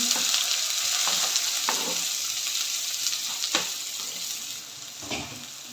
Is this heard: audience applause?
no